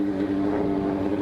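A motorcycle, a Honda Hornet, running with an open loud exhaust, giving a steady, dense droning rumble close by with no talk over it.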